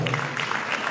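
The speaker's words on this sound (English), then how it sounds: "Round of clap for" Brief round of audience applause at a formal public statement event in Sierra Leone, a short burst of scattered clapping heard faintly in a hall.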